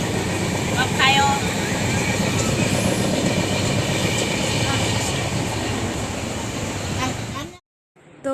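A continuous, loud rumble and rattle fill the inside of a moving overnight passenger train bound for Ujjain, with brief voices early on. The noise cuts to near silence just before the end.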